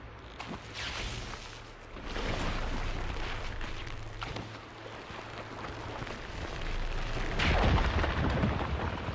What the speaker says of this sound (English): Ooh, underwater explosions.